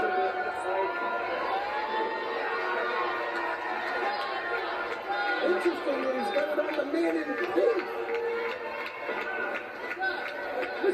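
A wrestling crowd cheers and murmurs loudly through a match in which one wrestler holds a sharpshooter. Continuous dense chatter and shouts swell at moments, with a commentator talking over the noise.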